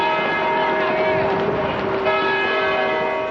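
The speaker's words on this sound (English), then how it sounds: "the magic of Albert Bell mixed with wedding bells, Our Lady of Good Counsel Church turned out to be a very good place" Church bells ring steadily and loudly for a wedding at Our Lady of Good Counsel Church, a continuous sustained peal with faint background noise beneath.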